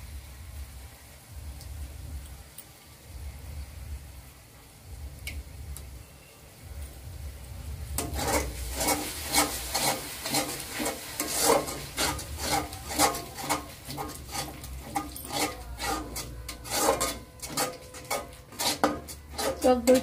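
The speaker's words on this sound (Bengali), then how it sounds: "টক দইটা দিয়ে ভালো করে মিশিয়ে" Whisked curd is stirred into aloo dum in a pan. After a quiet start comes a steady run of rhythmic scraping and clinking of a utensil against the pan, close up, with no talking.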